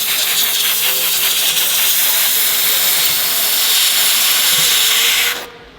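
A steamer lets out a loud, steady hiss of steam that holds for about five seconds and then cuts off abruptly, with no voices.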